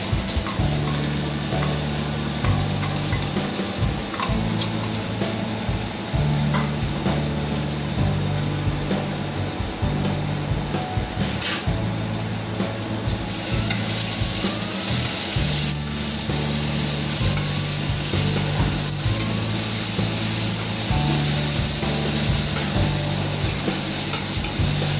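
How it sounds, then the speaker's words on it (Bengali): Chopped onions and chillies fry for dal in a pan, giving a steady, loud sizzle with repeated scraping stirs throughout and no talking. "পেঁয়াজটাকে এইভাবে ভাজতে হবে"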